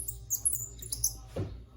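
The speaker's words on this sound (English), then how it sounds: "Sounds like a bird." High, thin squeaky chirps from a compound bow repeated a few times, a bird-like call heard close and moderately loud over a faint low hum.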